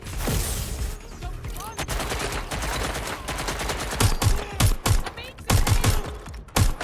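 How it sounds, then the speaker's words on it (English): Gunfire in Watch Dogs: Legion: rapid overlapping shots and volleys, loud and close, growing into sharper separate cracks toward the end, with voices shouting beneath the firing. "Shots fired! Shots fired!"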